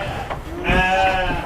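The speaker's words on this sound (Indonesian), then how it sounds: "ini jenis kambing bur" Boer goats on a farm, including pregnant does, mothers with kids and a buck, bleat nearby in a couple of wavering, fairly loud calls over low background rumble.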